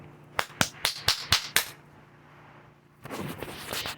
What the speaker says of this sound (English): and a spanking sound appears.